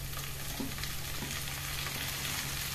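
Onions frying in a pan with bitter gourd added, a steady close sizzle with faint scraping and a low hum underneath, no voices.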